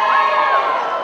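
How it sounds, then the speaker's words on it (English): A convention audience at Colossalcon East screams and cheers together, a loud, close burst of shouting voices that fades slightly toward the end. "I don't believe anyone who just screamed."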